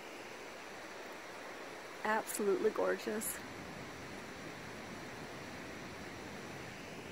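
River running beside the trail to Hanging Lake in the early morning, a steady broadband rush that continues throughout while a person speaks briefly near the middle.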